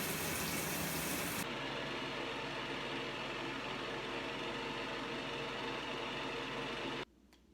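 Water running hard to rinse dye out of a witch costume, a loud steady gushing that cuts off abruptly near the end.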